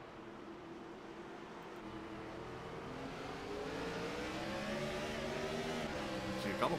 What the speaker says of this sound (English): A couple cars spinning the wheels